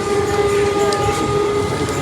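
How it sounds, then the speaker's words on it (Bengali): A Haripal local passenger train rumbles past close by, with a steady roar and a sustained tonal whine over the rattling of the cars. "ট্রেন চলে গেল"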